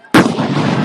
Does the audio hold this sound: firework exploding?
yes